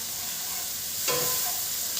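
Spice powders — coriander, turmeric, asafoetida and Kashmiri red chilli — frying in hot oil for a yogurt masala okra curry, a steady soft hiss that swells slightly after a brief stir, close and alone without speech.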